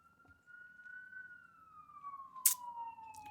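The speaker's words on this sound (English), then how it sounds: "We've got fire trucks, ambulance, police all the time." An emergency vehicle siren sounds somewhere on a city street in Philadelphia. A single faint, distant wail rises slightly and then slowly falls over a low traffic hum, with a brief sharp click partway through.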